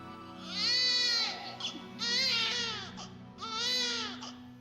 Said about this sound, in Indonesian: Iya nih, kok ada bayi nangis ya?